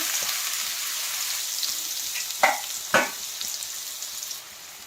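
Finely chopped large onion hitting a pan of hot oil for a village-style dal dish, a quiet steady sizzle with two sharp crackling bursts midway before it settles, no voices.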